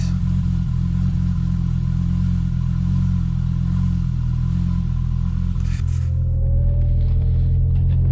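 An Audi UrS6 C4 with a big-turbo AAN five-cylinder idles steadily and loudly up close, a deep even drone with light mechanical clatter, briefly shifting tone near the end.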